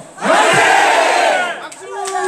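Crowd at a launch ceremony for a redevelopment cash-settlement residents' council in Bucheon shouting a loud, drawn-out "manse" cheer in unison, swelling then fading into scattered calls.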